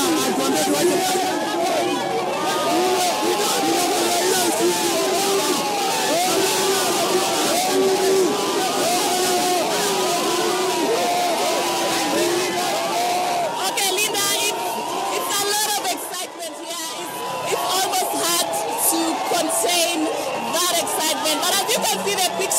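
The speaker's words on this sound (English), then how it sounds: "A huge crowd, a mammoth crowd has come to the streets of Kibera. It's all celebrations here." A huge crowd celebrates in the streets of Kibera, a dense, continuous babble of many voices, cheering and chatter filling the air loudly throughout, with a brief dip near the end.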